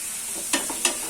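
Chopped onions sauté with whole garam masala and turmeric for a rohu fish curry, a soft steady sizzle broken by two quick spoon scrapes close together.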